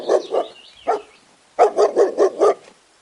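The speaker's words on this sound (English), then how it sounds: "D for dog." A dog barks loudly and close: two barks, a short one, a pause, then a rapid string of five barks.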